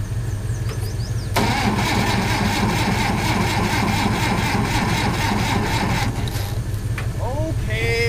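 A John Deere 800 swather engine cranks and catches, runs roughly with a rumbling, rattling note for several seconds, then cuts out. Voices speak around it.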